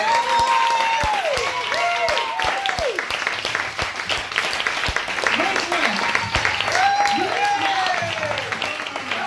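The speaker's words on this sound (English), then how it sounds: "Give a round of applause" Audience applause at a live salon-style comedy show, scattered sharp claps under ongoing chatter and talk from people in the room.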